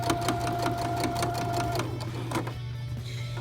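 Sewing machine stitching a pocket toward the next corner, a rapid, close, rhythmic stitching chatter over a steady motor hum that slows and stops near the end.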